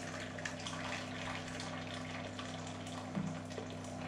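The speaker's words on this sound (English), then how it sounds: "So we pour boiling water into the container outside" Boiling water poured from a kettle into a container for baking a Roman patina, a steady low pouring wash with a faint hum running under it and a small splash near the end.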